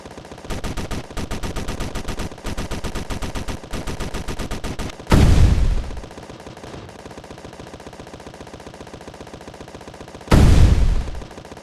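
Rapid bursts of 23mm turret gunfire in a Space Engineers game battle, loud and close in repeated short volleys with pauses, broken by two heavy booming blasts that decay slowly.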